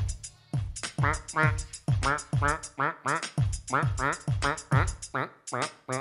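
At a live stage show in Durbuy, a voice imitates a duck in a French song, giving a rapid series of nasal quacks over a steady rhythmic beat, loud and close.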